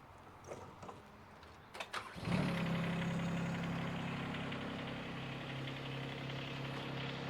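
A mini excavator's engine cranks over with some clicks and clunks, then catches and settles into a steady low idle rumble that runs on evenly, with no one speaking.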